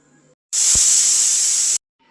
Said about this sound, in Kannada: ಕುಕ್ಕರ್ ಮುಚ್ಚಳ ನಿಡ್ಡನ್ನು ಮುಚ್ಚಿ ಮೂರು ವಿಸಿಲ್ ಕೂಗೋವರೆಗೂ ಬಿಡಬೇಕು